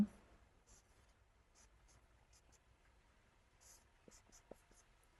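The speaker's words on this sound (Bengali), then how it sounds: "তাহলে একটি উদাহরণ লিখি" A pen or pencil writes out a Japanese kanji example by hand, with quiet scratchy strokes coming in short bursts against a near-silent room, plus a few soft ticks toward the end.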